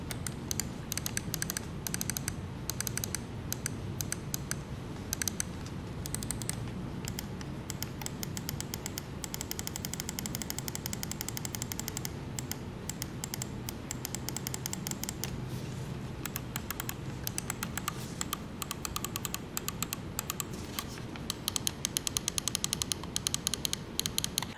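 Buttons of an ASUS TUF M3 2023 Gen 2 gaming mouse clicking, a steady run of close, crisp, rapid clicks over about twenty-five seconds, heard alone with no talk.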